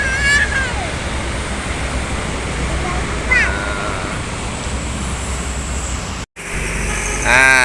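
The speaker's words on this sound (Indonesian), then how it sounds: "Ini 2 unit transmusi lagi lewat." Trans Musi city buses passing along a busy road, a loud continuous roar of traffic with brief horn-like tones and a swell as vehicles go by close.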